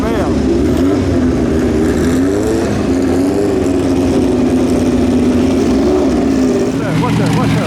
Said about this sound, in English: Here comes this 12-cylinder Alfa Romeo.